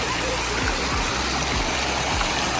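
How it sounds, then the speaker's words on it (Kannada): Water fountain jets at the KRS dam during a lit-up night show splash steadily in a loud, continuous rushing wash with no breaks. "ನಮೂನಿ ರೀತಿಯಲ್ಲಿ ನೀರು ಹಾರ್ತಾ ಇದೆ"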